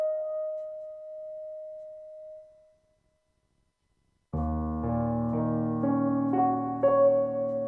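A clean electric guitar note rings out and decays with a springy reverb tail from a reverb pedal, followed by silence, then a strummed chord blooming with a lush, washy reverb.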